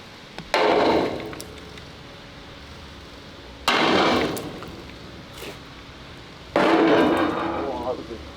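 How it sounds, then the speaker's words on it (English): Three heavy sledgehammer blows land on a warped KV-1S floor, each a loud broadband thud with a short ringing decay, spaced a few seconds apart with room noise between them. "I'm going to give it a hit with the sledgehammer and try that."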